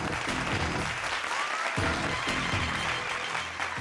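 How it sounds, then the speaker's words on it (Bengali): Loud, sustained applause from a studio audience at a televised Bengali family game show, continuous clapping filling the whole stretch with a crowd-like wash and no voices on top. "জোরে একটা হাততালি"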